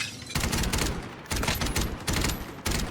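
Rapid bursts of gunfire from a first-person shooter video game, three or four loud, close, dense volleys with brief gaps between them.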